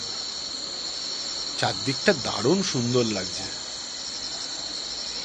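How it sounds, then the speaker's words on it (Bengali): Crickets chirp in a steady, bright, high drone on an evening outside a hillside homestay near Rishikhola on the Silk Route, continuing throughout while a person speaks briefly in the middle. "আর চারদিকে সঙ্গে ঝিঝি পোকা ডাকছে"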